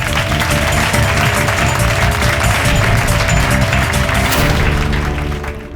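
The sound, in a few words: audience applause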